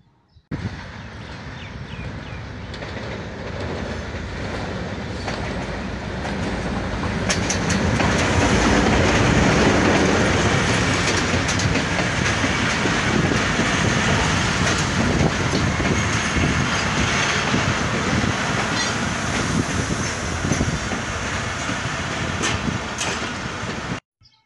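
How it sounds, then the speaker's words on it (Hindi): A local train on the Sargodha to Lala Musa line runs past Akhtar Karnana railway station in rural Punjab, a loud, close rumble with rhythmic clickety-clack from the wheels that swells and keeps rolling for over twenty seconds. "यहाँ पर सरगोधा से लाला मुसा जाने वाली लोकल ट्रेन स्टॉप करती हैं।"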